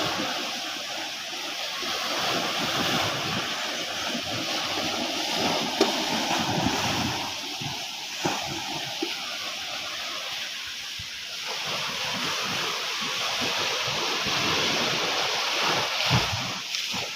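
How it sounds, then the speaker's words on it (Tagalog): Big rough sea waves breaking at the shore in bad weather, a continuous loud roar of surf mixed with gusting wind noise on the microphone, with no talk. "Grabe ang dagat. Grabe kadagko sa balod."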